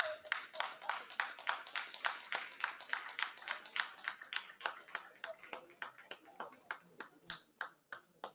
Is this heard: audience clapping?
yes